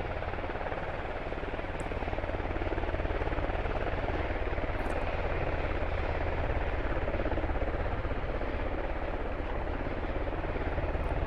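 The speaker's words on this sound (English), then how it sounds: "Second Halo is now spinning up at main. Two helos, one map, guys." Continuous loud rotor thrum of helicopters flying in the Squad military video game, a steady droning wash without talk.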